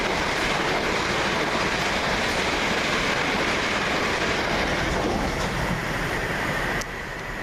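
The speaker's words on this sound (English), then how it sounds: "Because we had a train passing." A Southern train passes through Southwick station with a loud, close, continuous rumble and rattle of wheels that holds steady before easing slightly at the end.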